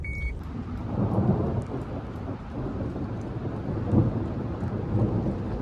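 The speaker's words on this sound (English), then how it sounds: "Thunder. Don't know if you can hear that." Deep rolling thunder rumbles on and off over a steady wash of rain, heard from a farm during harvest, with no speech.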